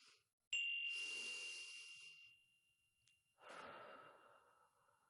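A single chime strikes and rings out, fading slowly, then a deep breath is drawn in and released during a calm breathing exercise for children.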